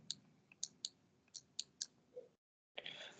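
Quick light clicks of calculator keys pressed as numbers are entered, about ten sharp taps in an uneven rhythm followed by a short silence and a burst of rustling, quiet and close.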